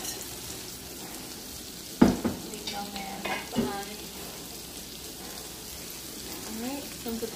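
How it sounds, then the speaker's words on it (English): Onions and green beans fry in a pan with a steady crackling sizzle, a sudden louder burst as the beans drop in and stir, then settling into a low continuous frying hiss with a few clinks, no voices. "I'm gonna go ahead and add my green beans to this because my onions are cooking pretty quick"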